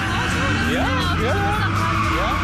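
Car driven roughly over bumpy ground, engine rumbling while tires squeal and chirp in several rising and falling bursts, close and fairly loud.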